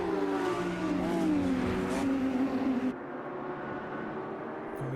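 GT4 race cars running in a close pack in a sim racing league game, several engines droning and shifting pitch together, loud and continuous, the overall level dropping a little partway through.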